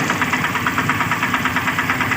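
A Mahindra Jeeto engine idles just after starting, giving a steady, close, knocking rumble with an even pulse that runs without a break.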